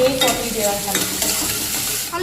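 Onions alone crackling and sizzling in hot oil, a close, continuous fry with faint stirring underneath.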